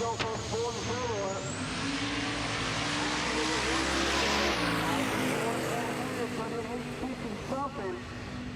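A Ford turbo drag race car roars down the strip at a Midwest drag racing event, a continuous loud engine blast with a rising then falling whine as it passes, crowd and track noise underneath.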